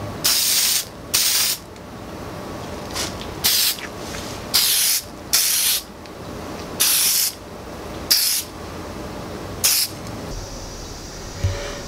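Spray can misting paint onto Honda Ruckus bike parts in a garage, a series of about ten short, loud hissing bursts separated by brief pauses.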